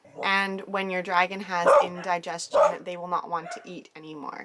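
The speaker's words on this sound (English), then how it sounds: "If you hear that barking" A dog barks in a few short bursts from somewhere nearby, partly buried under continuous speech about a Chinese water dragon's feeding troubles.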